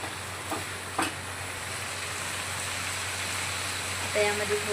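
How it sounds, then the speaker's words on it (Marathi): Mutton being stirred into masala in a pan for a Bihari-style curry gives a soft, steady sizzle with a couple of light scraping knocks and a faint clink near the end. "आता यामध्ये मी मटण ॲड करते. छान आपण मिक्स करून घेऊया."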